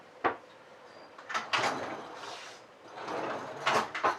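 Kitchen drawers in a holiday home slide open and shut several times nearby, with scraping runners and soft thuds in an otherwise quiet room.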